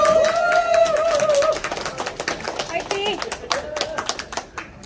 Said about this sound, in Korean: 마지막 한 발을 남겨두고 있는 두 선수에게 응원의 큰 박수 부탁드립니다.